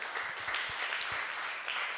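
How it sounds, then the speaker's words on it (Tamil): Audience applause for a church choir team at a music competition, a steady patter of many hands clapping under a faint voice. "அவங்களுக்கு உங்கள் கரகோஷத்தை கொடுத்து பாராட்டுகளை தெரிவிக்கும்"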